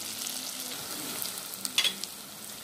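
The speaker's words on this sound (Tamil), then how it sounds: "இஞ்சி பூண்டு நல்லா வேக வச்சுட்டு தான் நம்ம அடுத்த ப்ரொசீஜருக்கு போகணும்" Ginger garlic paste for mutton kurma sautés in a pan with a continuous crackling sizzle, broken by a few sharper scraping stirs toward the end.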